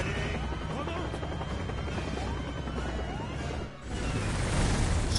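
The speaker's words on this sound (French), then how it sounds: "je vais piloter l'hélico" A helicopter in Resident Evil 6 co-op play gives off a steady, loud rotor drone with a brief dip and a crunching burst near the end, with voices mixed in.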